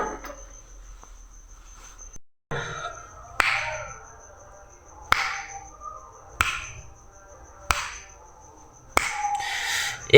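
A run of six or seven sharp finger snaps, spaced about a second or so apart, triggers a homemade transistor clap switch that lights an LED bulb, over a thin steady electronic whine.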